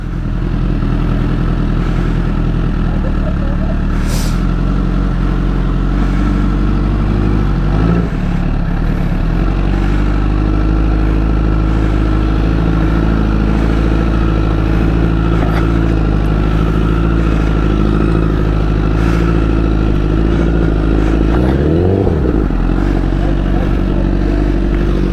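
Motorcycle engines idle and putter steadily up close on a snowy road, a continuous low rumble with occasional clatter and a brief rev near the end, with no talk over it.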